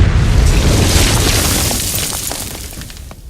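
A deep booming explosion from the video game Ground Branch rolls out and slowly fades, followed by scattered crackling debris, heard alone without voices.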